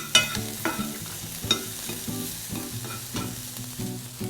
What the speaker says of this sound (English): I'm going to add the shallots and garlic now. Wait for those to cook down slightly.